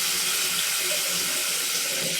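A shower runs steadily through an IVO SB151 water purifier set to unfiltered, giving a loud, even hiss of spraying water close by with no pauses or talk.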